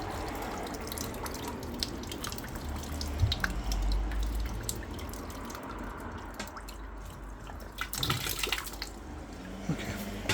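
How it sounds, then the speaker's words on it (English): Water drains from one side of a Ferroli boiler during a repair, a steady trickling and dripping flow with a few brighter splashes, fairly close and continuous throughout. "This side of the boiler will drain out."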